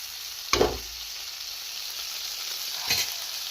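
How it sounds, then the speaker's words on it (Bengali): Whole biryani spices such as bay leaf and cinnamon dropped into hot oil for chicken biryani, giving a steady close sizzle broken by two brief louder crackling bursts. "তেলটা গরম করে নিয়ে আমরা ময় মশলাগুলো দিয়ে নিলাম"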